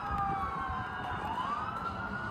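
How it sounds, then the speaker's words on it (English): Emergency vehicle sirens wail in the distance outside, a steady wavering tone heard faintly from indoors with low background noise. "All those sirens, hopefully everybody is well."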